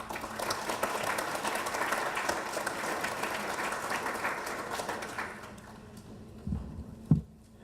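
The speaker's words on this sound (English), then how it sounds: "Please welcome him with a warm round of applause" Audience applause welcoming the president up for closing remarks at an awards ceremony in Grand Cayman, a steady dense round of clapping from a large room that thins out and fades near the end, with a couple of louder knocks.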